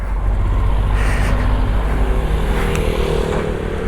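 Steady mixed engine rumble of cars and motorcycles stuck in a traffic jam on a hilly road to Kempty Falls near Mussoorie, a continuous loud low drone with no clear pauses.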